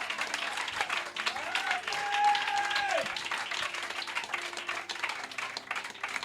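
Church congregation applauding and clapping loudly throughout, a dense crowd sound with a brief sustained tone rising over it near the middle.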